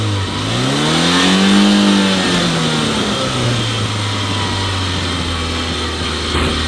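A remote control toy car's motor revs up to a high, rising whine, falls back, and then settles into a steady, loud buzzing drone close by.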